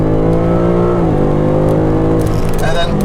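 BMW M5 CS sports car accelerating hard on a road, a loud, close engine note climbing in pitch, briefly dropping at a gear change and then rising again, with a faint voice underneath.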